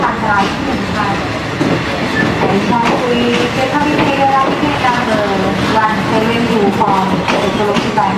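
A train runs along Thailand's southern railway line at night, its loud, close wheel clatter and rumbling rolling steadily throughout, with voices faintly mixed in.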